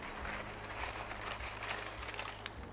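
Dry leaf litter crinkles and rustles as it is handled while a bioactive Pac-Man frog enclosure is set up, a steady close crackling texture with no talking.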